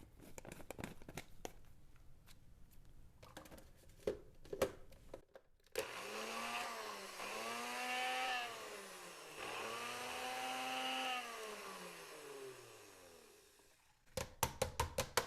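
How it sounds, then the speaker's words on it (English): A NutriBullet blender with an extractor blade purees chopped ginger in a little hot water, its motor whirring loudly in rising and falling surges after a stretch of clattering handling noise, then stopping abruptly before more clatter. "Okay, then I'm going to blend it."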